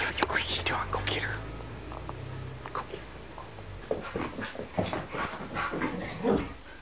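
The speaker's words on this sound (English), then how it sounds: "You crazy dog. Go get her." A pet dog called Piggy whimpers and scuffles about in lively play indoors, with quiet talk and whispery voices mixed in around the short, uneven whines.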